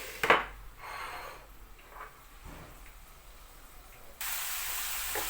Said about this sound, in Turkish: Şimdi kıymam kavrulsun.